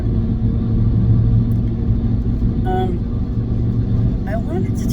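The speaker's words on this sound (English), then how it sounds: "My car's loud." A loud car driving in the early morning gives a steady, low engine rumble with road noise throughout, heard from inside the cabin under a person speaking.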